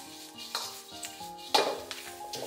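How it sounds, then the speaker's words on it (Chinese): Green chili peppers stir-fried in a wok with a little salt, a soft sizzle under scattered scrapes and clinks of a spatula against the pan, with sharper knocks now and then. "在锅里面大概给它煸炒个2分钟，炒出辣椒的香味"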